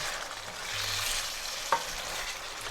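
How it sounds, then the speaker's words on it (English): Cumin seeds and spices gently stir-fried in oil for chicken biryani, a soft, fairly quiet sizzle with a single clink of the utensil midway, close and steady. "give it a gentle stir fry, and you can see the colors developing now"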